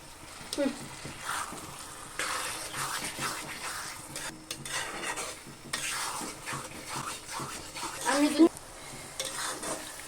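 A spice masala with potatoes and salt fries in a pan while a utensil stirs and scrapes through it, giving a steady sizzle with frequent clinks against the metal, close up and continuous.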